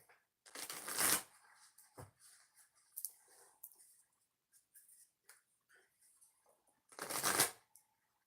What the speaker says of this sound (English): 3 shuffles for the viewers.